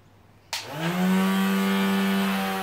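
Power sander on laminated MDF edges starting abruptly and spinning up to a steady loud whine with a strong buzzing hum, close and continuous, no voices.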